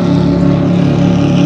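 A motorboat roars past on a lake near a dam, with a loud, steady droning engine that stays close and fills the whole moment without any talking.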